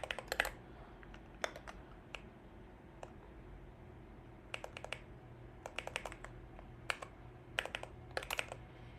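Typing on a ZSA Moonlander split keyboard makes scattered bursts of crisp key clicks in an irregular rhythm over a quiet room hum, with no voices.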